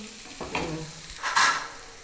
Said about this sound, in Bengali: আমি এখানে তোমার রোল রুটিটা ভেজে নিই